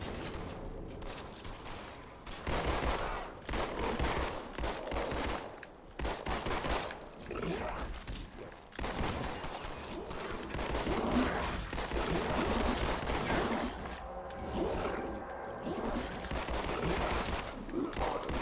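Sustained gunfire rattles through a firefight in the video game Halo 2 Anniversary, dense overlapping automatic bursts and impacts running continuously at steady loudness, with game sounds layered in.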